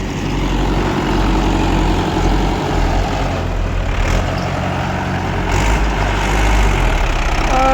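A heavy Mahindra tractor engine strains loud and steady, labouring at a constant low rumble throughout as it hauls a trolley, with no talk over it.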